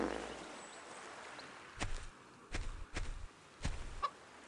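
A chicken in the Black & White game gives several short clucks in separate bursts, fairly close and clear against a quiet background, with no speech.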